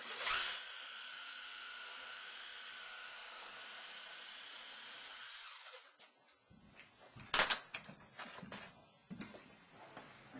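A pipe is cut with a power tool: a steady, fairly quiet whine runs for about six seconds, then gives way to scattered scrapes and knocks as the cut finishes.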